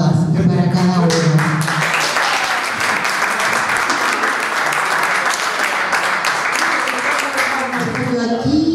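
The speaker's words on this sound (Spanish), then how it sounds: "Nos merecemos un aplauso grande, cariñoso y con alto cariño para todas y para cada uno" A crowd at a reunion of former students from the class of 1967 breaks into loud, sustained applause, dense clapping filling the room after a voice fades at the start, with voices returning near the end.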